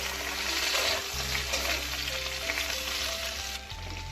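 Green chilies frying in oil in a pan with vegetable stalks and potatoes, giving a steady, moderate crackling sizzle throughout under a low, constant background hum.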